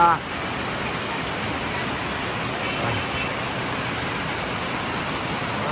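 Heavy rain pouring onto house roofs, a dense steady hiss that holds evenly after a brief louder start.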